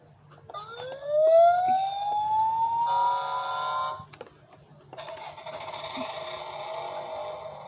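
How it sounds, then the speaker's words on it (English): A SuperThings rescue truck toy siren winds up into an electronic wail, then shifts to a fast warbling pattern, then a steady buzzy tone; loud and close, with no talking. "these are the sounds it makes. The sirens also light up."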